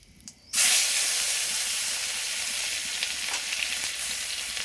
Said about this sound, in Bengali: এবার আমি রসুন বাটাটা দিয়ে দেবো।